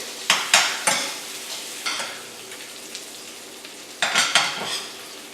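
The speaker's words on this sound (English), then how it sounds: "do a little tilt job with your skillet and collect any of the fat that kind of runs down the bottom here and just kind of scoop it up onto the steak" A ribeye steak frying in a tilted skillet while hot fat is spooned over it: bursts of spoon scraping and splashing over a steady sizzle, loud and close, with no talking.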